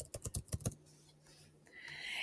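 A computer keyboard is typed on in a quick burst of about seven close, faint clicks, followed by near silence and a soft rising hiss.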